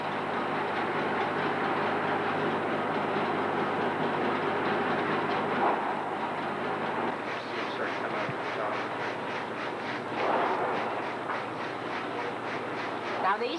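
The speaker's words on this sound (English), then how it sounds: "There's the shaker and the blower underneath the machine." A berry harvesting machine runs steadily with its shaker and underneath blower, a dense mechanical roar that turns into a rapid rhythmic clatter partway through, close and continuous.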